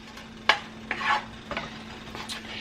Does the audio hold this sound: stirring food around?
yes